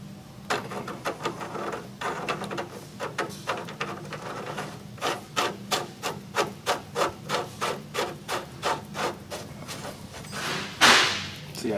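A flathead screwdriver works on a 1938 Packard Super 8 bell crank steering part, giving a run of rhythmic scraping, rasping strokes that quicken to an even beat, close up with no talk.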